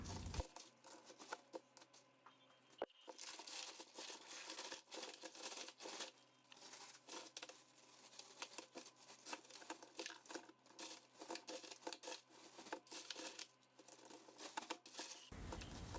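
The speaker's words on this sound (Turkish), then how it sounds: "Kağıt yardımıyla mantılarımı topluyorum ve poşetliyorum." Frozen manti dumplings being gathered with paper and packed into plastic bags, giving a steady crinkling and rustling of plastic and paper that runs close and continuous for the whole stretch with no talking.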